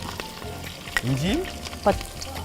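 Ginger and green chillies sizzle in a hot frying pan for a fish-head coconut milk curry, a steady close frying hiss with a couple of brief stirring scrapes and a person's voice over the top.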